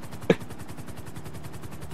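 Helicopter in the video game GTA Online, a steady rhythmic rotor chop pulsing throughout at moderate level, with one brief sharp burst near the start.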